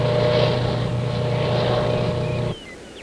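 A helicopter fitted with an aerial fire-lighting machine drones loud and close, a steady rotor and engine roar holding evenly before cutting down sharply near the end.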